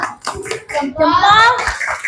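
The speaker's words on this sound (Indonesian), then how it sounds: "Oke, tepuk salut" Schoolchildren perform a rhythmic group clapping chant in class, a few quick claps mixed with their voices before the chant stretches into a loud, drawn-out shout.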